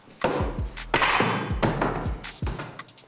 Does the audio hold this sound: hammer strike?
yes